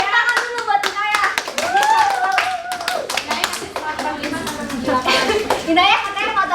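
A classroom of children claps for a classmate, bursts of sharp close hand claps in irregular rhythm mixed with kids' chatter and speech throughout.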